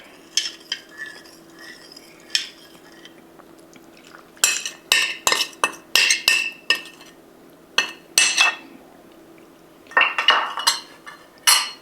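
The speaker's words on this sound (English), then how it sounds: "So pretty much we're just mixing everything. Make sure every single beef absorbs all that marinade." Beef is mixed with marinade in a bowl: a utensil repeatedly clinks and scrapes against the bowl in irregular clusters, loud and close, with softer rustling between the bursts.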